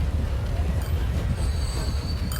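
A train on the Jacksonville line in the Transport Fever game rolls in with a loud, steady rumble, a thin metallic wheel squeal rising partway through, and no talking.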